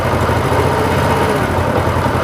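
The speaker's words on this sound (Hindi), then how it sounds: "अब हमने इसकी आइडल स्पीड को सेट कर देना है।" A Honda CD70 motorcycle engine idles steadily up close, a continuous, even low thrum with a fast regular pulse and no voices.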